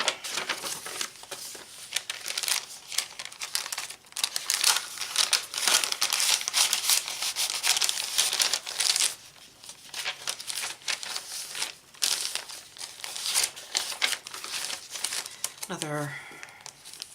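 Paper bag and loose paper ephemera being handled, a steady run of crinkling, rustling and crumpling close by, with brief pauses and a short rising squeak near the end.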